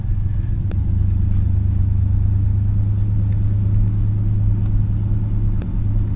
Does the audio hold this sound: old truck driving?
yes